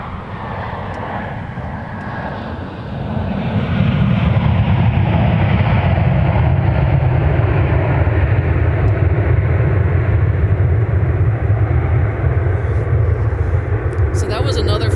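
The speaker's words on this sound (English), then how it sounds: "So that was another flight from San Juan, Puerto Rico, Delta flight 925." A Delta airliner from San Juan, Puerto Rico, at MSP airport builds to a loud, steady roar that holds as it passes nearby, with a broad rumbling engine noise throughout.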